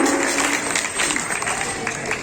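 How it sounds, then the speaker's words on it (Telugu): Brief applause from a crowd at an outdoor satsang gathering beside a Prasanna Anjaneya Swamy temple, a dense burst of clapping that continues evenly throughout. "ఒకసారి ఆ మాతగారికి చప్పట్లు"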